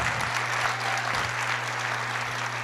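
Audience applause during a Portuguese-language prophetic church sermon, a steady dense wash of clapping throughout, with a low hum underneath.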